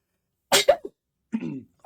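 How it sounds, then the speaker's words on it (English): A single forceful human sneeze bursts out close and loud, a sharp double-peaked blast followed by a brief gasp, then a short voiced exhale after a pause. "That was a powerful sneeze."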